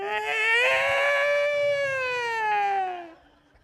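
A voice imitates young twins crying, a single long, wavering, tonal wail that holds steady and then slides downward before fading out, close and loud.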